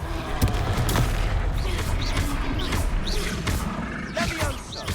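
Confringo explosive spells in Hogwarts Legacy go off in a dense, continuous barrage of blasts and crashes, loud and layered with battle noise throughout.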